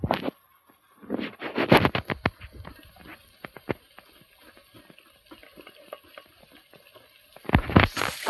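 A mix of seven kinds of leaves with garlic and coconut is stirred in a pan as thoran, giving irregular scraping and shuffling strokes. There are bursts at the start and end and softer stirring in between, and nobody speaks.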